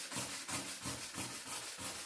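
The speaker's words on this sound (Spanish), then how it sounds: "vamos a lijar el chaguay bien lijado en un solo sentido" Sandpaper rubs chaguay wood in one direction with rhythmic, even strokes, about five passes in two seconds. The rasping is soft and close, with no talking.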